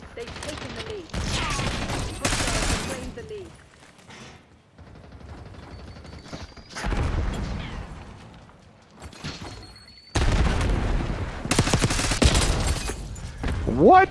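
Shotgun blasts and bursts of gunfire in a Call of Duty match, loud booming shots coming in clustered volleys separated by quieter stretches of game noise, with a player talking in between.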